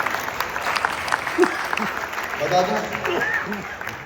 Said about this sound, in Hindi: हम पहले तालियां बजाएंगे